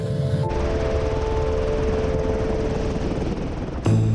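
A helicopter landing in the Dolomites beside a wooden restaurant gives a loud, close, constant rotor thump and turbine whine, cutting in abruptly and holding steady for several seconds before cutting off.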